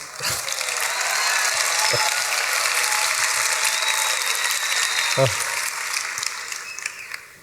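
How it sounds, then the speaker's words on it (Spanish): A church congregation in Scotland claps for a guest preacher in sustained, even applause that fills the room, with a few brief knocks and faint voices underneath. "They don't usually clap me in Scotland"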